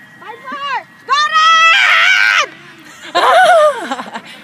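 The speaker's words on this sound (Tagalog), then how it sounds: "nahuli sa video yung sigaw mo" A person screams loudly in several drawn-out, high-pitched bursts with laughter-like breaks between them. The sound is close and fills the quiet gaps, and there is no other talk.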